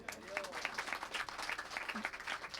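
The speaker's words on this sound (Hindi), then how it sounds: "हो गया तो तालियां बजा दी जाए।" Audience at a Janmashtami devotional gathering clapping together in a sustained, dense round of applause that fills the whole stretch at steady loudness, with a faint voice briefly audible beneath it.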